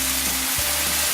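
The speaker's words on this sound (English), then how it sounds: "We'll just brown up your pork for a little bit, make sure it gets nice and evenly cooked." Ground pork browns in a hot pan with a close, constant sizzling hiss and a faint low hum underneath, brief and uninterrupted.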